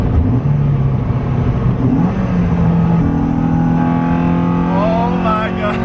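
A modified Honda CR-V engine revving hard under full acceleration, its loud droning note climbing steadily in pitch through a sustained pull, heard from inside the car.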